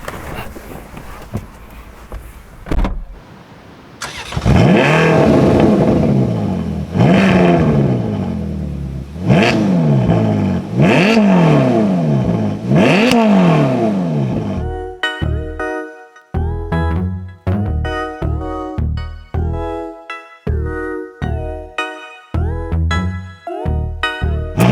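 A convertible Ferrari engine revs hard in repeated rising bursts while driving on a hot day, loud and close, then gives way to a tonal, rhythmic passage of music with no talking.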